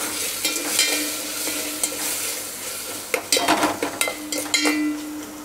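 Tomatoes frying in a pan with ginger garlic paste and curry leaves for mutton kulambu, a steady sizzle with repeated clatter of a spoon stirring against the pan, louder scraping toward the end, no talking.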